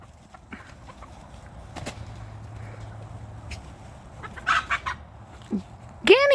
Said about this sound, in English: Guineas.